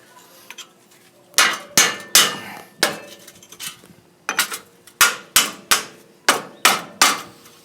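A chisel is hammered to drive out a front u-joint on a 2007 Dodge Ram 2500 4x4. Sharp metallic blows come close and loud in quick bursts, roughly a dozen strikes with short pauses between groups.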